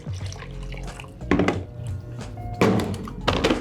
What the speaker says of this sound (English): Shut lid.